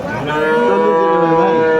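A dairy cow or calf at a cattle market gives one long, loud, close moo, a sustained tonal call that slowly bends in pitch, heard alone with no talking.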